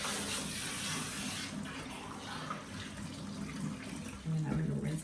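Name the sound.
water running while rinsing shampoo out of hair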